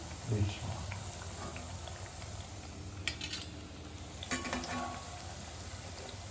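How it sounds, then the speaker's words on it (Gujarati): Patra, colocasia leaf rolls, frying in a pan over a low flame, giving a steady soft sizzle with a few brief louder crackles and stirs. "આપણે બીજી બાજુ પણ આ રીતે ધીમા ગેસે જ એને ફ્રાય થવા દઈશું"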